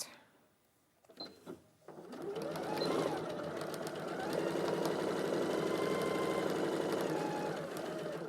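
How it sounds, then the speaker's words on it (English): A sewing machine stitches a pocket seam with a 1 cm seam allowance between pins, starting after a second of quiet and a few small clicks, then running in a steady, continuous loud whir until the end. "We're going to stitch down in between those pins."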